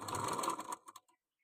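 A sewing machine stitches a decorative design on a blouse sleeve, a brief close mechanical whir that slows into a few last clicks and stops.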